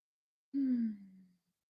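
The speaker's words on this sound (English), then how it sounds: "I can't stop yawning." A single drawn-out yawn during morning yoga, close and fairly loud, sliding downward in pitch before trailing off into silence.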